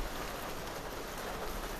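Rain falls steadily in hot British summer weather, a dense even hiss of drops close by with no voices.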